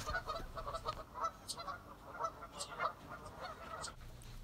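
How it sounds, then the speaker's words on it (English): Waterfowl on a neighborhood lake calling in groups, repeated honking squawks in irregular bursts, moderately distant and faint over an outdoor background, with no talking. "It's a lake in my neighborhood. Ducks are playing in groups."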